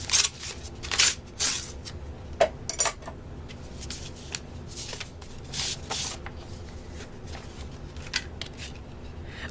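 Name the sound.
opening a greeting card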